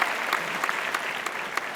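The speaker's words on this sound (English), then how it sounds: "also keep the applause going for Harmanpreet Singh" Audience applause at an Indian awards ceremony, a dense burst of clapping from a large crowd, steady and fairly close throughout the short stretch.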